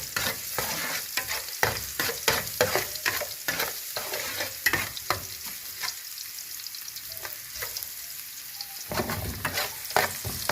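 Chopped ginger and garlic frying in a pan, a steady close sizzle broken by repeated sharp scraping and stirring strokes throughout.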